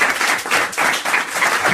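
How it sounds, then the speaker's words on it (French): A studio audience on a French radio show claps in a short, dense burst of applause, loud and close, with the intensity pulsing slightly throughout. "on vous remercie, on vous applaudit"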